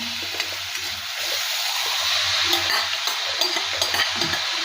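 Drumstick leaves stir-frying in a hot pan, a steady close sizzle broken by the scrape and shuffle of stirring, with no voices.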